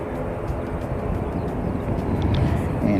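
An ATR turboprop airplane drones past in a continuous low, rumbling roar with wind noise, holding steady and loud across the whole span.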